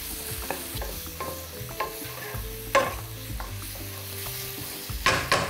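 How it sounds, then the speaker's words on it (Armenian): Lavash pie filling fries in a pan, a soft steady sizzle broken by scraping stirring strokes and a few sharper clanks of the utensil against the pan. "Եվս 2 րոպե տապակենք և լցնենք խճողակներից մեկի վրա"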